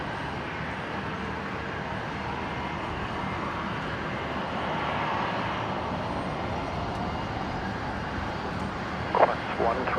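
A Qantas Airbus A330 arriving on runway 19 left at Brisbane, a continuous broad jet engine roar of moderate loudness swelling slightly midway, with people talking quietly in the background.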